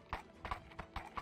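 Horse hooves clip-clop at a steady walking pace, four distinct close hoof strikes spaced evenly and fairly loud over a faint background hum.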